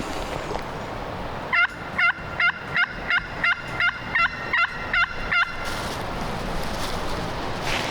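Wild turkey gobbling during a spring hunt in the Deep South, a run of about ten rapid, rattling gobble bursts at steady intervals, fairly close and loud, then quiet woods ambience.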